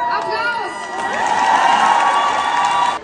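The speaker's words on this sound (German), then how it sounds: "Applaus!" A concert crowd cheers, whoops and claps after a friend's performance, a loud, lively roar of voices and clapping with shouts rising over it, cutting off abruptly near the end.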